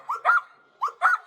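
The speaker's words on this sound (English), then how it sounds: "He just loves to get the dogs going." Dogs on a snowy winter homestead bark in two quick double bursts, sharp and fairly close, with a short silent gap between the pairs.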